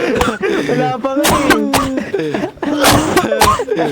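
A person coughs several times in short bursts amid overlapping voices and chatter, loud and close, with people talking throughout.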